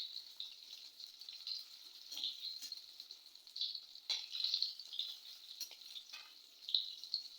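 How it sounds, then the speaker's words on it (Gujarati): Potatoes for dum aloo deep-fry in hot oil with a soft, continuous sizzle, broken by brief crackles and bursts of bubbling. "તેની ઉપર ક્રિસ્પી કોટિંગ થાય ત્યાં સુધી તેને તળી લઈશું."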